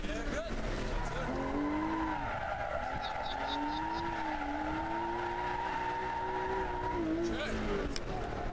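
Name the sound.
Ferrari 458 Italia driving on track, tires squealing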